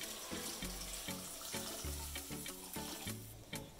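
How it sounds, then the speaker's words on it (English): Broth is poured into a pot for shrimp bisque, making a steady close splashing and gurgling stream of liquid that runs for a few seconds with slight bubbling variations, and no voices. "And then we want to add the broth we just prepared."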